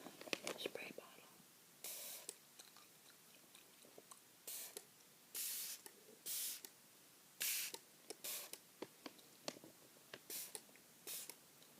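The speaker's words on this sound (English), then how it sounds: "let me know if you enjoy the sound of the spray bottle" Repeated short bursts of a spray bottle misting, some quick and some longer, close up and crisp, with soft whispery sounds and light mouth noises in the gaps.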